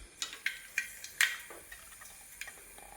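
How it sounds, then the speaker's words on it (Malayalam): Mustard seeds pop in hot coconut oil, a run of sharp, separate crackles and ticks at irregular intervals, close and fairly faint, with no voices. "കടുക് പൊട്ടി"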